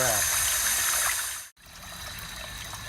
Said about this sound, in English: And the water will just pour